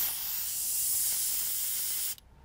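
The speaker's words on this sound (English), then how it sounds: "That's just spraying clear thinners now." Airbrush spraying clear thinners onto a rag while cleaning between Gunpla paint colours, a steady close hiss lasting about two seconds that cuts off abruptly.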